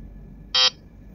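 A single short electronic beep sound effect from a mobile video editing app, loud and clean against a quiet background, lasting a fraction of a second.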